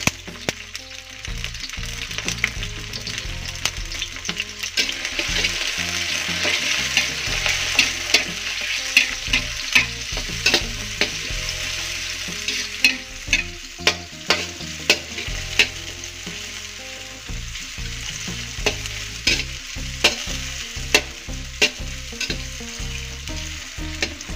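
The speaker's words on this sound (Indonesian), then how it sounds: "Ini kita tumis sampai dengan mengharum." Garlic, shallots, tomato and red and green chilies sizzling in hot oil, a steady loud frying hiss broken by repeated sharp scrapes and clinks of a spatula stirring the pan, with no talking.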